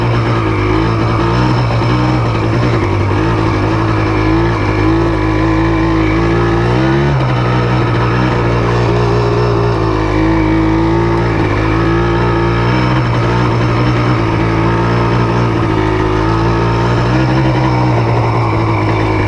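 A Yamaha Blaster quad's engine drones and revs steadily while riding, a loud continuous buzz with slight pitch swells throughout, no talking.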